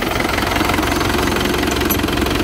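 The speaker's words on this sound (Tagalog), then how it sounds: "Start the engine." The engine of an Isuzu Crosswind idles steadily during a brake-bleeding job, a close, loud and even drone with a faint knocking pulse running through it.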